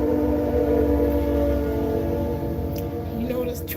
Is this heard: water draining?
no